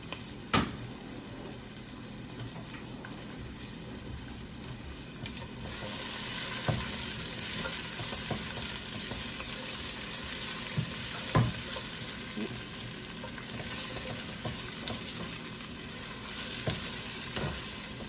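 Onions and vegetables sizzle steadily in a hot pan for Spanish beans, a continuous close frying hiss that grows louder midway, broken by occasional clinks and scrapes of stirring.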